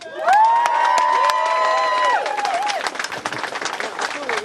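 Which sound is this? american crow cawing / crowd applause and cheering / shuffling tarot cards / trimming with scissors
crowd applause and cheering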